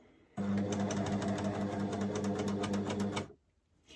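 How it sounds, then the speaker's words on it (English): An overlocker runs steadily for about three seconds, stitching onto fabric with a loud, fast mechanical whirring chatter, then stops abruptly. "So I'm going to do just a couple of stitches onto the fabric."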